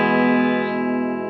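Harley Benton TE-40 electric guitar played on its bridge pickup through a '65 Deluxe Reverb amp with no effects, a single sustained chord ringing clearly and steadily, decaying only slightly until a faint pick noise at the end.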